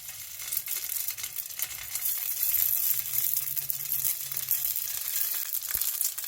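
Spring rolls fry in a tablespoon of olive oil in a pan on medium-high heat. A steady, close hiss and sizzle continues throughout with faint crackles, and no one speaks.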